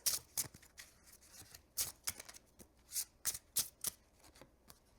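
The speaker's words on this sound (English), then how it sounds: "I swear I'm shuffling these." Repeated quick riffles of tarot cards being shuffled, soft bursts in irregular rhythm with brief pauses between, close and fairly quiet.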